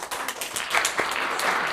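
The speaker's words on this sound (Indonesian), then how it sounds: "Beri tepuk tangan untuk kawan kita." A classroom audience applauds a presenting group: dense, steady clapping from many hands, fairly close and sustained throughout.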